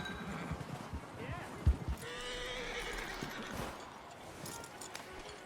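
A horse whinnies and its hooves clop nearby in the snowy Western world of Red Dead Redemption 2, with a few heavy thuds and voices talking over the scene.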